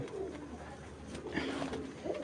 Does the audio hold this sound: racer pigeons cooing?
yes